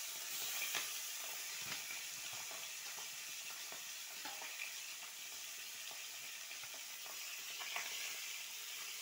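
Fish frying in hot oil for a home-style fish curry gives a steady, soft sizzling hiss. Small pops and crackles break through it here and there, and the sound carries on evenly and quietly without pause.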